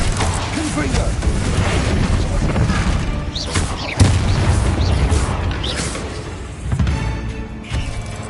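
A Confringo fire spell blast in Hogwarts Legacy, a loud booming burst with thuds and crashes over dense rumbling combat noise, with a voice speaking during the fight.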